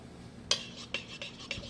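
A utensil clinks and scrapes against a bowl while ingredients are mixed, a few quick, close, fairly quiet knocks over a low background hum.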